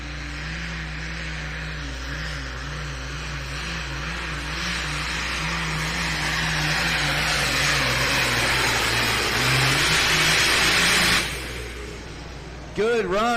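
A Ford pulling truck roars at a truck and tractor pulling event in Bowling Green, Ohio, its engine climbing steadily in pitch and loudness through the pull before cutting off abruptly, followed by a short quieter stretch.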